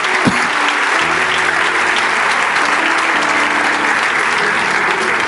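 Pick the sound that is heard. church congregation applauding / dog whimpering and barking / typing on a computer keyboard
church congregation applauding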